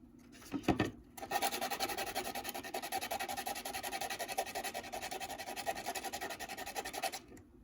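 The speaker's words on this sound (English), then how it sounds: "So we're gonna take apart these segments, right? And we're gonna sand this down." Sanding the edge of a LEGO train segment: steady, close scratchy rubbing that runs continuously for about six seconds after a couple of brief scrapes, with no talking.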